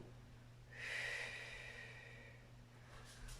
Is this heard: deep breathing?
yes